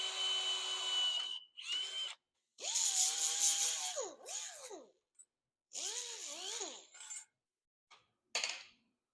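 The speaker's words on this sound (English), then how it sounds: "Then I'll drill a hole through the fender and through this piece." Loud power drill whirring in several bursts as it drills through the fender of a 1964 Ford Falcon, its pitch rising and falling as it bites, separated by short quiet gaps and a few metallic clicks.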